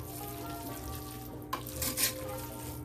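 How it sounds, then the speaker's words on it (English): Pulled pork being mixed with barbecue sauce in a bowl, a steady wet stirring and squelching with a couple of louder scraping swishes near the middle, close up and without talk. "we're going to add however much barbecue sauce in the pulled pork that you desire, and we're going to mix this up"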